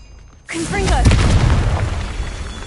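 A blasting Confringo spell goes off in Hogwarts Legacy, a sudden loud boom that rolls into a sustained rumbling burst with crackling debris, heard up close.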